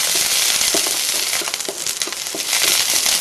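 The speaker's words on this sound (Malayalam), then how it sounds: "വെളിച്ചെണ്ണ ചൂടായതിനു ശേഷം കടുകിട്ട് പൊട്ടിക്കാം" Mustard seeds crackle and pop as they splutter in hot coconut oil in a pan, a steady close sizzle dotted with quick sharp bursts, with no talking.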